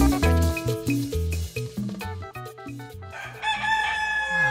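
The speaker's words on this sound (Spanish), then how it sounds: "¡Tienen un gallo!" Rooster crowing at dawn at 5 a.m. in a neighborhood, the crow heard loudly over a bed of music, with the call standing out near the end.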